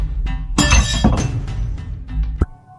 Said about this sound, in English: It's like something is pushing or pulling the glass, then it tips off the edge and breaks.